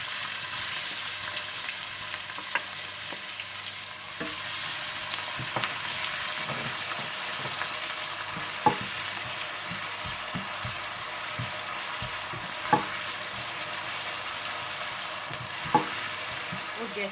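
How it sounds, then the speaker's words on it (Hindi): Onions and cumin frying in a pan, a steady dense sizzle with occasional louder crackles and pops, close and continuous with no talking. "जैसे ही जीरा थोड़ा सा भून जाए तो आप इसमें प्याज डालकर हल्के से गोल्डन ब्राउन कर लें"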